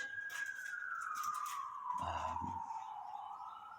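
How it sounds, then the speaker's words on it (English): A distant police siren wails with a slowly falling tone, faint and steady over quiet background ambience at an abandoned psychiatric facility. "it's nothing abnormal to have sirens going off while you're exploring"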